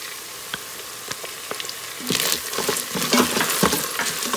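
Green chillies dropped into hot oil for vegetable pulao: a quiet pan with a few isolated ticks gives way halfway through to a loud, crackling burst of frying that keeps sputtering to the end, no speech.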